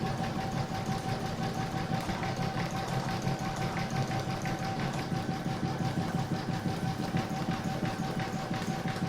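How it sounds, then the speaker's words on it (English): An embroidery sewing machine running a satin stitch around a large butterfly appliqué made with Mylar, a steady fast needle rhythm with motor hum going on continuously and fairly close, with no talking. "I'm now going to stitch round number 7. That's going to do all the satin stitching."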